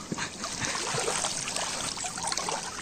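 River water trickles and splashes steadily as banana leaves are rinsed directly in the stream, a close, continuous wet wash with small irregular spatters and no voices.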